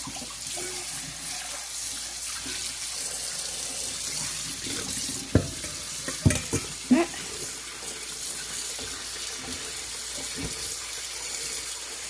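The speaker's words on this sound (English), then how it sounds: "after you rinse them out really well" A kitchen sink tap runs steadily as shredded potatoes are rinsed for hashbrowns, a loud continuous water rush with a few brief knocks and splashes partway through, no talking.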